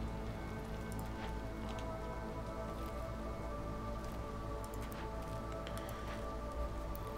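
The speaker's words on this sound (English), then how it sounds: "And it's rain season again." Rain in the fantasy city-building game Against the Storm, a steady dense patter of drops hissing on surfaces at an even level throughout, with no talking heard.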